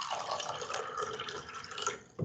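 Plain water streams steadily into glasses pushed close together, a continuous splashing fill that runs for a couple of seconds before tapering off, close and alone.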